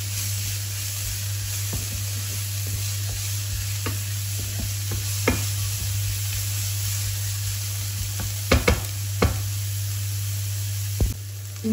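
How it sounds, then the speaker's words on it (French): Two small chopped onions sizzle in a pan on the hob with a steady hiss, broken by occasional stirring scrapes and clicks, close and continuous with no talking. "Je vais venir faire revenir 2 oignons hachés."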